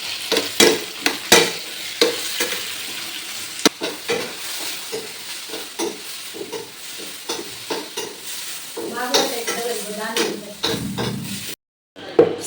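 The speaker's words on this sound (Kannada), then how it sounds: "ಇದೆಲ್ಲವನ್ನು ಒಂದು 2 ಮಿನಿಟ್ಸ್ ಚೆನ್ನಾಗಿ ಫ್ರೈ ಮಾಡ್ಕೊಳ್ಳಿ" Chillies and spices fry in a pan with a bright crackling sizzle, broken by repeated scraping and stirring strokes, loud and close, and a short silence near the end.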